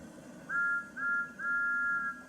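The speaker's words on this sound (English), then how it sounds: "That's Thomas's whistle." Thomas the steam engine's whistle from a Wooden Railway toy setup sounds in three clear, high blasts, the last held longest, over quiet background.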